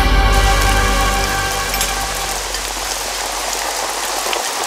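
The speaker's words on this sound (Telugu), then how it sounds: "ఈ రోజు వర్షం పడుతుందని" Steady rain hisses across the whole clip, a dense wash of drops on a surface, with a faint tonal hum that fades early.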